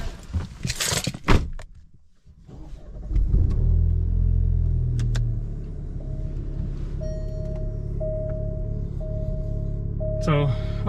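A 2024 Alfa Romeo Giulia pulls out for a night drive: a door thump and rustle, then a low engine rumble that builds and settles into a steady drone, with faint chimes near the end.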